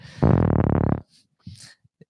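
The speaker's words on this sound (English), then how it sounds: "Nothing like a fart that you can confidently put your weight and effort into." A buzzy, low, rasping fart-like tone lasts about a second, then shorter sputters and faint clicks follow.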